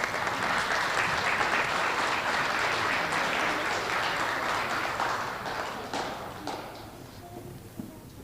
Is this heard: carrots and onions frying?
no